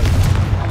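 A single Confringo blasting spell in Hogwarts Legacy erupts as a short, heavy, close boom with a deep low-end thump.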